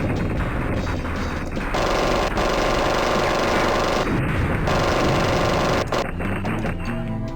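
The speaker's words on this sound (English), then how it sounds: "And we flew through the explosion." Anti-aircraft fire and an explosion in the Fighters Anthology flight combat game fill the scene with continuous loud crashing, rattling bursts of gunfire and blasts, dense and unbroken, shifting in intensity over several seconds.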